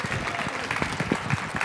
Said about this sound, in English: can we give a big round of applause for Carla and her crew?